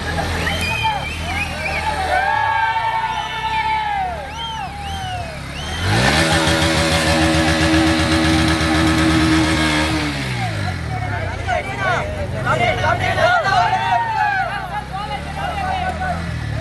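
A Pulsar NS 125, a 125 cc motorcycle, revs loudly at a college stunt show, with a sustained high engine drone rising and holding mid-clip amid crowd noise and talk.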